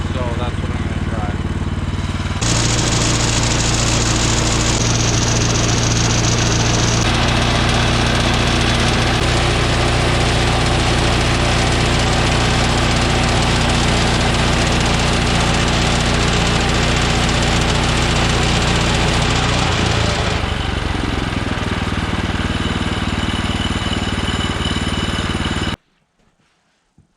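A Woodland Mills HM126 sawmill cutting a live edge slab: a loud, steady engine drone with the blade working through the log runs unbroken for about 25 seconds, then cuts off abruptly into near silence.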